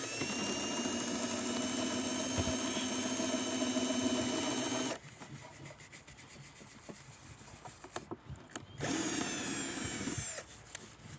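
Power drill boring holes into an old guitar, a loud steady high whine for about five seconds, then quieter shorter bursts with pauses between them, no talking.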